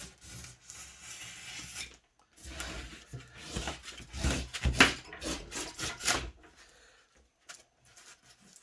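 A brand new blade slices through pink foam board in a series of close scratchy rasping strokes, with quiet pauses before and after a busy middle stretch of cutting.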